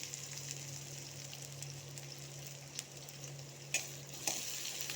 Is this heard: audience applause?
no